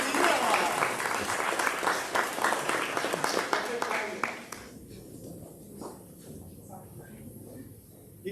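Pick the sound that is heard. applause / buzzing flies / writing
applause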